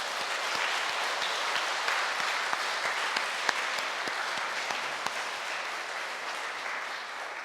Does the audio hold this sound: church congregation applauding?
yes